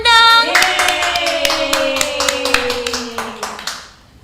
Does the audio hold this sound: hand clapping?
yes